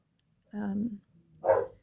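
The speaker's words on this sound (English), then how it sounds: "the dog is barking" A dog gives two short, sharp barks indoors, a brief pause between them, faint and somewhat distant with no speech over it.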